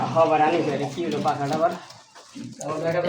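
A white German Beauty Homer pigeon with a pink beak coos in short, repeated low phrases at close range, heard at a pigeon market with some voices mixed in.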